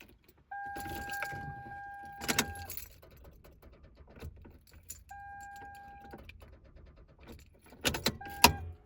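A car with a flat battery tries to turn over with a few clicks and whirring bursts that never catch, with brief loud clunks between quieter stretches.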